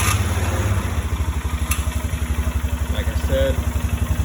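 A 2012 Polaris Sportsman 500 HO ATV engine runs roughly with the choke on, chugging in a fast, steady pulse close by, with a brief voice over it.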